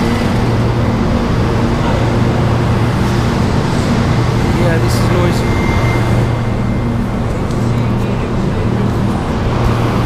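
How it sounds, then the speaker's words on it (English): Refrigeration compressor running steadily at a grocery store in Uganda among other refrigeration and AC units, a loud continuous low hum with tonal drone, close by, with faint talk in the background. "this compressor here is noisy"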